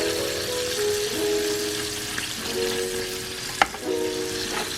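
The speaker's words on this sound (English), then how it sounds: "Roast this corn." Canned corn roasting in melted butter in a pan for a vegan Chipotle-style bowl, a loud, steady sizzle and crackle heard up close with no talking, broken by one sharp knock of a utensil partway through.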